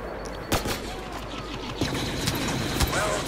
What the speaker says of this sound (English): So, I'm using the heavy blaster, I believe.